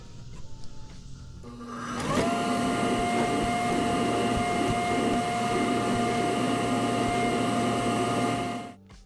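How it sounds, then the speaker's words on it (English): A shop vacuum hooked to a dust collector, its lid held down by bungee cords, switches on after a short quiet stretch and runs with a loud, steady whine and hum before shutting off at the end. "The suction on the vacuum is a lot stronger"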